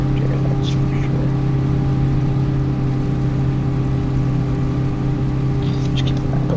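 During a corn harvest, a loud tractor engine drones steadily with a strong low hum that stays close and constant throughout, and faint chirps come through briefly above it.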